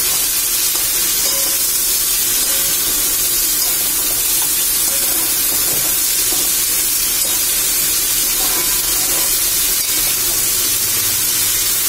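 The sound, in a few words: okra being sautéed in a pan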